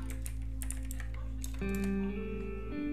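Keys clatter on a computer keyboard while a search for VirtualBox is typed, a quick run of light close taps over a steady background hum.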